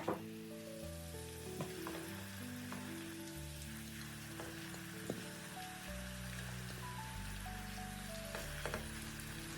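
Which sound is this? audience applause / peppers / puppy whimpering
peppers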